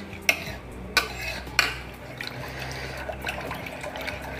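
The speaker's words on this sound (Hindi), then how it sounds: "अच्छे से मिक्स कर लेंगे" Batter for Rajasthani pitod being mixed in a bowl, with three sharp clinks of a utensil against the bowl early on, then a softer steady swirling and stirring that carries on to the end.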